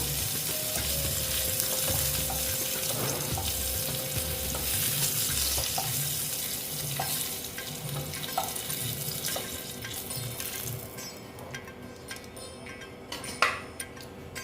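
Cauliflower frying in oil in a wok for a Bengali-style koi fish curry: a dense, close sizzle that thins toward the end, with scattered metallic clinks and scrapes of a utensil and no talk.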